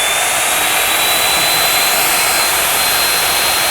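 An NG120 XL saw runs flat out at full speed, a loud, steady, unbroken high-pitched whine with no pauses for its whole length.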